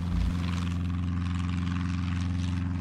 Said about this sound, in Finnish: Onhan se toinenkin lentokone.